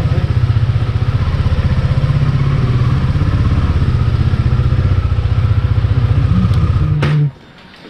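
A motorcycle engine idles with a steady, pulsing chug close by while the bike is parked, then cuts off abruptly near the end, leaving quiet.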